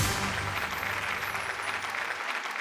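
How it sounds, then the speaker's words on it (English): A large audience at an insurance awareness awards quiz show in Mumbai applauds steadily for a few seconds, a dense, even clapping that fades at the end. "Give them a round of applause."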